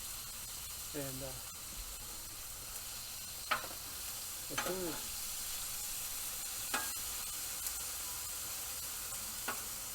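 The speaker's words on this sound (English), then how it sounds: "You can hear that thing going. You can see the steam creating from it." Broccoli steaming under a lid on a Blackstone griddle outdoors in a back yard, a steady hissing sizzle running throughout with a few brief clanks and someone talking over it.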